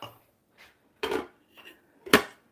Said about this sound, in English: now we're going to put the lid on it and simmer